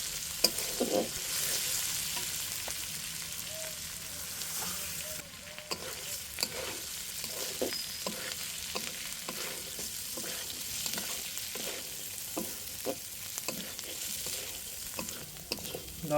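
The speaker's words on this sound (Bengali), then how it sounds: "আমি ফোড়নের তেলটাতে ডালগুলো ভেজে নেব।" Lentils frying in hot oil with dried red chilli and bay leaf, a steady close sizzle broken by repeated scraping stirs of a spoon through the pan, no talking.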